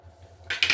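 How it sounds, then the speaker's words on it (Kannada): A pressure cooker lid set in place on the pot, a brief metallic clatter and scrape of two quick clinks after near silence. "ಇವಾಗ ಲಿಡ್ ಕ್ಲೋಸ್ ಮಾಡೋಣ ಇವಾಗ"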